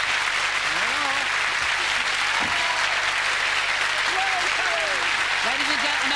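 Studio audience applause at a television variety show, a steady dense clapping that fills the room from start to finish with no pauses, loud and close, with some voices mixed in underneath.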